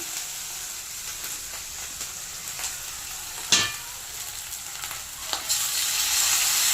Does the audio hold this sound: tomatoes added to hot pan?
yes